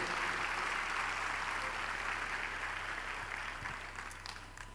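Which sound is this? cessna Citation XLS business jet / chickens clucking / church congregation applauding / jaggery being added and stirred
church congregation applauding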